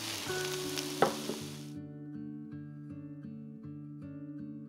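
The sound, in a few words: stir-frying shallots, garlic and chili in pork fat in a pan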